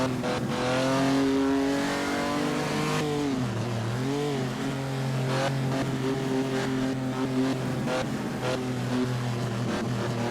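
A 1948-era race car engine in Assetto Corsa revs and drones loudly and continuously at close range, its pitch dipping and climbing through gear changes, with faint tire noise beneath and no talk.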